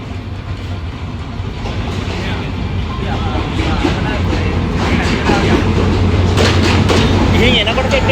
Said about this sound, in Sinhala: කැලිප්සෝ ට්‍රේන් එක එනවා.